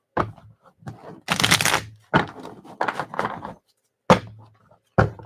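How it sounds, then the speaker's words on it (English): Tarot cards are shuffled in several quick bursts of riffling and flapping, separated by short pauses and sharp taps, close and dry in a quiet room. "Two more shuffles."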